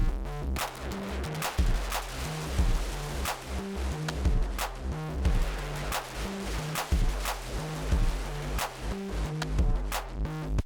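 A dense, chaotic wall of distorted synth noise made with Ableton's Roar effect, with stuttering glitchy bursts and sharp clicks, loud and unbroken throughout.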